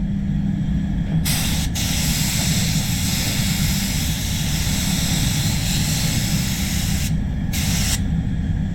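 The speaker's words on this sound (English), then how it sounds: "Generally, I wouldn't go this heavy on my first coat. It's just the way this gun sprays." An Iwata Supernova spray gun lays down a heavy clear coat, a loud continuous airy hiss close up that stops briefly near the start and twice near the end, with no talking.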